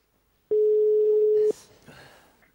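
A single steady telephone ringback tone sounds for about one second as a call is placed live from an Armenian radio talk show, followed by a faint line click and quiet background noise.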